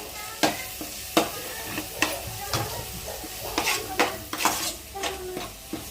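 Masala spices for street-style pea chaat fry in a pan as a spoon scrapes and stirs them. Distinct stirring strokes come every half second or so over a steady soft sizzle, close and moderately loud, with no talk.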